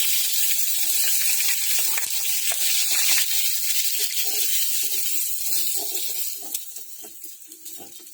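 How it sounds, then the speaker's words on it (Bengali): Paneer frying in a pan makes a steady, dense sizzle with crackling pops, loud at first and easing slightly near the end, with some stirring and scraping taps on top. "এখন এই পনিরটাও ফ্রাই করব"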